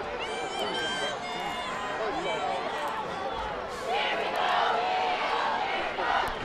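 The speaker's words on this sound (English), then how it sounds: "Esau Meadow crowd still buzzing" A football stadium crowd buzzing during a high school game against Longmeadow, a continuous murmur of many voices with shouts rising toward the end.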